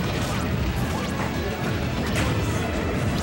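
Forward smash hits land in Super Smash Bros during a doubles match, with sharp impacts in a dense, loud wash of game sound across the span.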